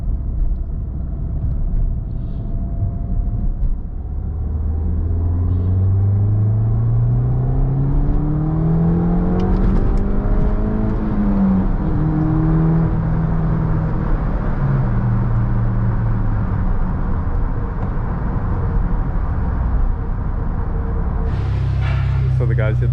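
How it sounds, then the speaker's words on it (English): A Mini Cooper S R56 with a stage 1 tune and aftermarket exhaust accelerates hard through second gear, its engine note climbing steadily in a loud sustained rev before easing off near the end. "Just want to do a second gear pull."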